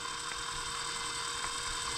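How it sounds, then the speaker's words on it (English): Electric drill spinning a small engine valve against its seat, lapping it with toothpaste on an Enjomor 6cc hit-and-miss engine; a steady, continuous high whir holds at even level throughout with no talk. "we're going to run our drill and keep pressure back towards the face"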